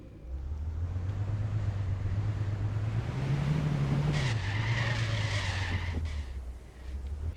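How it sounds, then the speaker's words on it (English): A Porsche drifts in Car Dealer Simulator, with a steady roaring engine and a long tire squeal that rises in pitch midway and then settles, loud and continuous. "You can actually hold the drifts a lot better."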